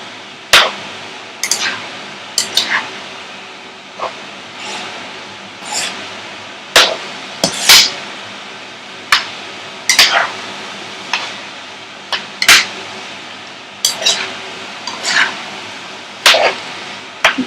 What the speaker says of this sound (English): And now we're just going to give this a mix.